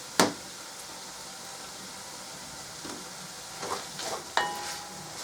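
Onions sizzle in a pan while being cooked for a pork and bean cassoulet, a steady close frying hiss broken by a few stirring scrapes and clinks.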